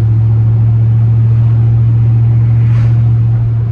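A single cab short bed Chevrolet Silverado pickup on the move, its engine and road noise forming a loud, steady low drone throughout with no voices.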